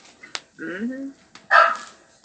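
Short, sharp dog barks and a whining yelp come from a dog in a house, mixed with brief bits of speech between them.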